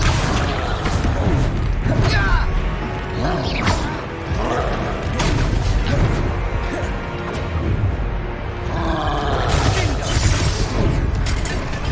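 Hogwarts Legacy spell combat with a Confringo fire-blast spell: loud booming explosions and whooshing bursts crash repeatedly over a dense, continuous rumble of battle effects.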